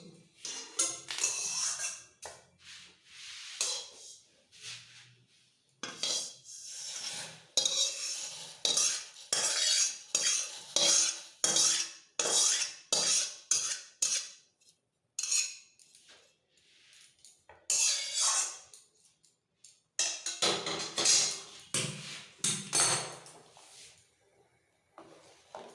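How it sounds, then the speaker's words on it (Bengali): A spoon stirs fried vermicelli into boiling milk, making rapid rhythmic scraping and clinking against the pot in bursts separated by short pauses, close and fairly loud, with faint bubbling beneath. "এবার আমি দুধের মধ্যে সিমইটা দিয়ে নাড়াচাড়া করব"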